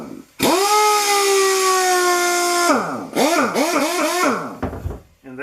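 A Harbor Freight Earthquake air impact wrench runs close and loud, a sustained high pneumatic whine for about two seconds, then a series of pulsing, wavering hammering bursts before a short final blip.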